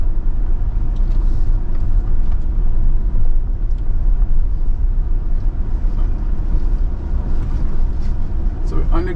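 A car driving a flood-damaged road in St Thomas gives a loud, continuous low rumble of engine and tyres, with a rough, bumpy texture and a brief knock near the end.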